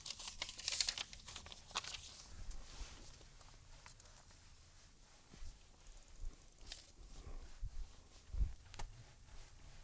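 Paper envelope torn open close by, a few quick ripping and crinkling bursts followed by quieter rustling and handling noises, with no talk.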